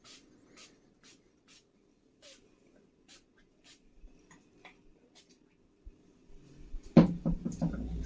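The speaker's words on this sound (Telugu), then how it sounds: "సో కంప్లీట్గా స్కాల్ప్ అండ్ హెయిర్కి సో స్ప్రే చేసుకోండి." Short hissing bursts from a spray bottle mist rosemary water onto scalp and hair, repeated in a loose rhythm of quick squirts close by, followed by louder handling and rustling at the end.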